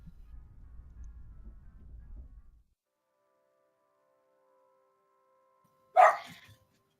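A single loud dog bark rings out near the end after a stretch of silence, with a short yelp trailing it, following a faint low rumble at the start.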